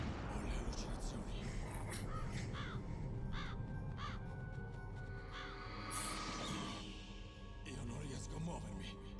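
Crows cawing in Metal Gear Solid (1998) during a hallucination scene, repeated caws over dense droning music and effects, with someone speaking Italian over them.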